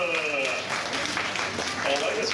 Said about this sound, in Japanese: 拍手だ